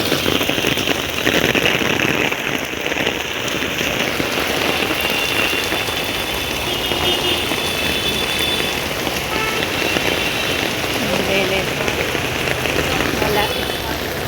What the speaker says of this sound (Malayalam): പെരും മഴയവിടെ